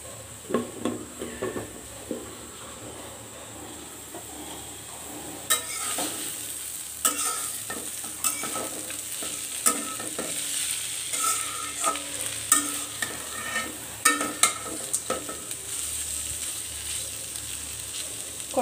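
Eggs frying in a pan while being stirred, a steady close sizzle broken by repeated scraping and clacking strokes of the utensil against the pan, with no talking.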